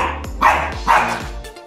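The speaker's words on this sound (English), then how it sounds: "dog barking." A dog barks nearby, three or four sharp, loud barks in quick succession with short gaps between them, heard on their own without talk.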